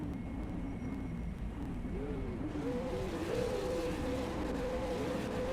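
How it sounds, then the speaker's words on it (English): V8 race car engines idle and rev upward on the starting grid of a racing video game, a dense steady drone with rising pitch sweeps toward the end, no talking. "we can hear the revs rise"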